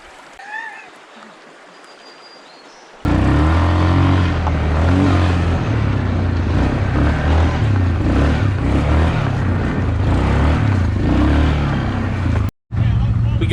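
Can-Am off-road vehicle at a camping spot, its engine starting up and holding a loud, steady rumbling idle close by, briefly cutting out near the end.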